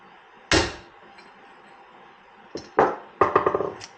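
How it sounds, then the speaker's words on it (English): A sharp metallic hammer strike on a piston pin of a 1948 Harley-Davidson WL Flathead 45 engine rings out alone, then after a pause a cluster of rapid hammer blows follows, several quick impacts in a row. "smacking it one good time with a hammer"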